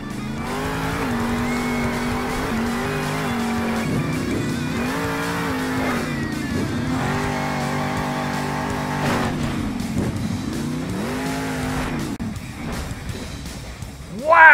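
Engine roar from a Monster Jam video game: the Mohawk Warrior monster truck on a backflip run. It revs up and down in repeated surges with shifting pitch and sounds like tires squealing, and a loud noise bursts out at the very end.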